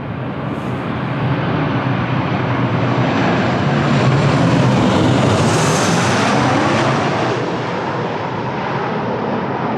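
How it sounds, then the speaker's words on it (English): An El Al Boeing 737 in new livery on final approach to land at Lisbon Airport gives a loud, broad jet roar that swells to a peak near the middle and then eases, with wind noise and no talk. "Teremos agora na final um Boeing 737 da Israel com a pintura nova"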